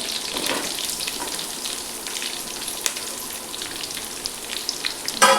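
Three small onions fry in oil in a pan alongside green chillies, making a steady, close hiss and crackle that carries on unbroken with no voices.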